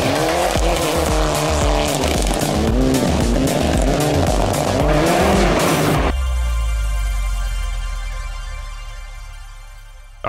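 A car drifts and skids on snow, its engine roaring loudly with rising and falling revs for several seconds before cutting to a steadier, fading motor hum; no voices.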